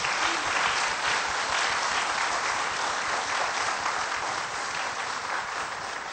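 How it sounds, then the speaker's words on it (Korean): Steady, dense applause from a large audience honoring three award winners at an award ceremony, sustained evenly at full strength for the whole stretch without any voices. "여러분 다시 한번 오늘 수상하신 세 분께 큰 축하의 박수 부탁드립니다"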